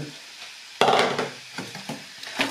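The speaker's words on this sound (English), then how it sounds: "we're beginning to sizzle away" Vegetables and peppers sizzle in a frying pan: a steady frying hiss that jumps louder as more peppers drop in, with a few knocks and stirring scrapes.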